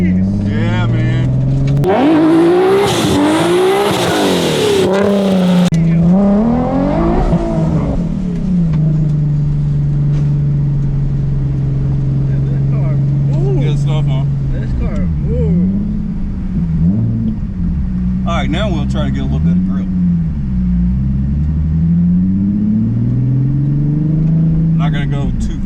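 A 600hp Nismo 370Z accelerates hard, its engine roaring loud and close through rising and falling revs, then settling into a sustained drone with more swells, while people talk over it.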